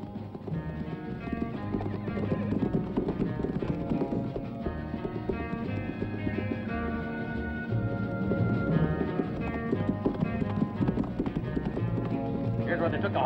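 Horses' hooves clip-clopping in a western film, with steady rhythmic hoofbeats and a whinny heard under a continuous music score, and people talk in places.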